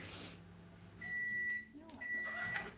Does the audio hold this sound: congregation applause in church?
no